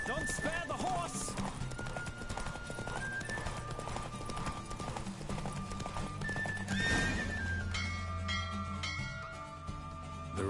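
Galloping horse hooves pound through a Witcher 3 horse race, with loud clip-clop and a whinny over a running music bed and shouting voices.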